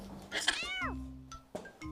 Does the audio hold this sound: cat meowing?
yes